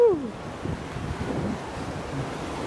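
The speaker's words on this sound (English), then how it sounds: "This is actually the longest rapids in the Netherlands." Rushing, splashing water on a river rapids ride at an amusement park, the longest rapids in the Netherlands, a continuous close wash of surf and wind buffeting the microphone.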